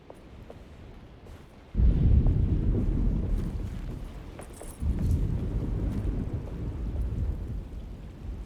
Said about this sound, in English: Just keeping an eye out for the storm. Radio says it could be a wild one.